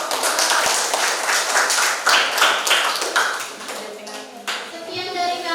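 A class of students in an Indonesian chemistry lesson claps hands together, a dense, steady patter of many close claps that thins toward the end as a voice begins over it.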